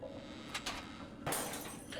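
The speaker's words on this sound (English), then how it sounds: "that's that shattering sound" Glass shattering in the video game Homebody, two sharp bright crashes of breaking glass about three quarters of a second apart, the second louder and trailing into tinkling debris, over a low quiet room tone.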